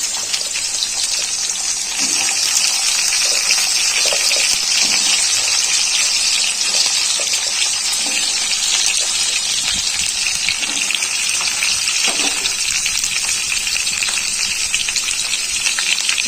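Drumstick pieces, potato and pumpkin sizzle and fry in hot oil in a pan, a steady loud hiss with scattered crackles and pops throughout and no voices.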